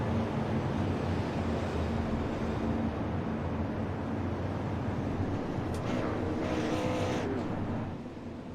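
Race cars circle a short track during a racing event, a steady, dense engine roar at a distance with one car passing a little closer near the end.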